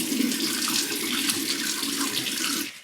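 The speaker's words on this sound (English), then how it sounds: "I'm going to rinse my face again" Tap water runs steadily into a sink while a face is rinsed after a safety-razor shave, a full, even rush that stops abruptly at the very end.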